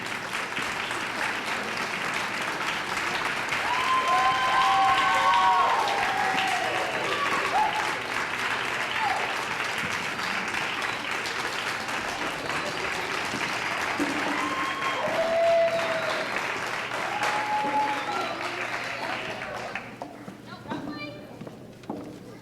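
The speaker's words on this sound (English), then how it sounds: "I would like for you to give them a round of applause again." Audience applause for graduates at a 1998 program graduation ceremony, a sustained crowd clapping that swells and fades over about twenty seconds, with voices and movement mixed in, then thinning out near the end.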